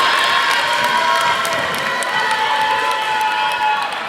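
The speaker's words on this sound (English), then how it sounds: "The crowd is delighted by the action here tonight." A crowd cheers and shouts loudly and continuously at a middle school girls' all-star basketball game in a gym, a dense roar with children's voices that holds steady throughout.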